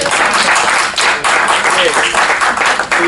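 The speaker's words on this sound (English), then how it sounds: "I want everybody to give a round of applause" Dense applause from a crowd, steady clapping filling the whole stretch with slight swells, close and loud.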